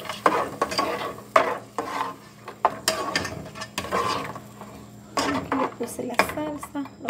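Spaghetti sauce stirred in a pan for spaghetti with pork chops, with clinks and scrapes of a utensil against the cookware and faint bubbling between strokes, heard up close with no talking.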